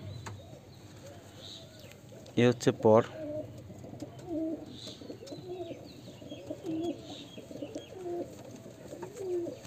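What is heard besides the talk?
Murshidabadi Giribaz pigeon cooing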